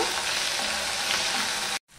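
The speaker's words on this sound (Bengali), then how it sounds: "আদাটুকু লাল লাল করে আমি ভেজে নেব।" Ginger sizzling in hot oil alongside bay leaf and green chillies, a steady close crackling fry with light stirring, cutting off abruptly into silence at the very end.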